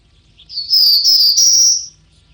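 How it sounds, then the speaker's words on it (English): A clean, high-pitched bird call, a single sustained whistling note lasting over a second, heard alone against near silence. "there is barely any noise there besides the bird call"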